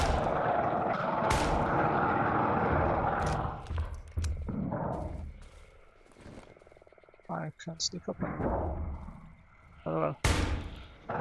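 Gunshots in the horror survival video game Darkwood: a few sharp, loud bursts of gunfire, one early and one near the end, with rumbling game ambience between them and a short spoken remark.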